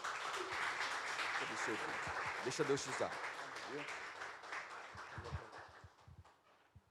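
A church congregation applauds in a sustained, even wash of clapping while a voice speaks over it, and the applause thins out and fades toward the end.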